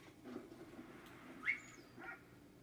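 A dog in the Valiant Hearts video game gives a few soft whimpers and yips, faint over a quiet background.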